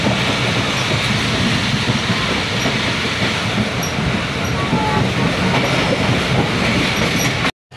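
The Rehman Baba Express passenger train, hauled by an SGMU 30R locomotive, runs fast along the tracks near Karachi, a loud, steady roar of wheels with rhythmic clatter and hiss, ending in a sudden cut.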